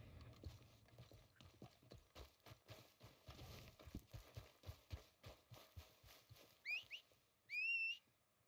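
In a video game, horse hooves clip-clop in a steady rhythm, close by, followed by two sharp whistles near the end.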